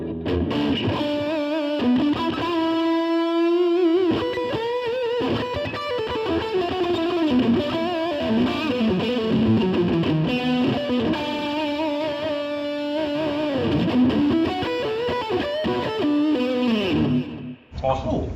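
A Music Man John Petrucci electric guitar played with the coil tap plays sustained chords and melodic runs through effects, bright and slightly thin in tone, ringing steadily for several seconds before stopping abruptly.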